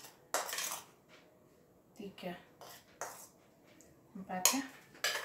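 Donut dough ingredients, sugar among them, stirred in a bowl, heard as a few quiet scraping and clinking bursts of a utensil against the bowl, close and soft, with a voice speaking softly between them.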